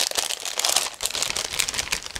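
A plastic bag holding the sprue frames of a 1/32 scale ICM model kit is opened, giving a close, continuous crinkling and rustling of thin plastic with brief crunchy bursts, no talk over it.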